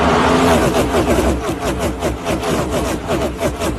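A car passes on a road: a loud, steady engine and tire rush close by that fills the whole stretch, with no speech over it.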